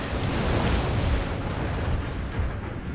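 Continuous rumbling barrage of artillery fire in Empire: Total War, a dense roar of overlapping booms with no clear gaps between shots, steady and fairly loud throughout.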